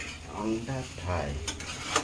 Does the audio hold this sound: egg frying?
yes